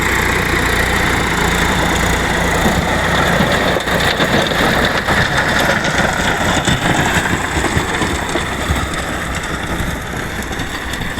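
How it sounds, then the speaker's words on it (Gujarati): A Swaraj 742 XT tractor's 45-horsepower three-cylinder diesel engine runs steadily and loudly up close, a continuous mid-pitched rumble with no voices. "સૌરાજ 742 XT 45 હોર્સ પાવરનું 3 સિલિન્ડરના દમદાર એન્જિન સાથે આવે છે"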